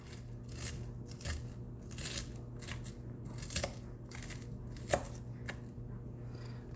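A knife cutting through partially thawed meat, with repeated crunchy chops and scraping slices at an uneven pace over a faint steady hum.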